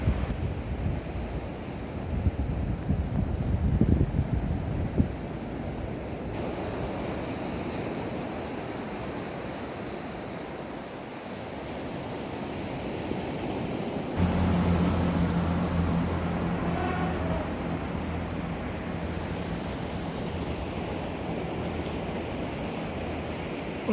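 Surf rolls onto the beach at Teignmouth in a continuous wash of breaking waves, heavily buffeted by wind noise on the microphone, with a low rumble and no voices.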